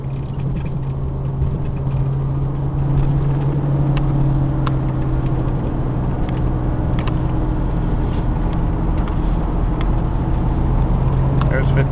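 A Tioga Arrow 21ft Class C motorhome driving on a road, with a steady engine drone and road rumble throughout, and scattered small rattles and squeaks from the cabin.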